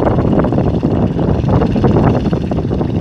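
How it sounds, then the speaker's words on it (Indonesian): A Kubota G3000 engine drives a tractor plowing a rice field, a loud, close, steady chugging drone with wind buffeting. "Itu adalah mesin Kubota"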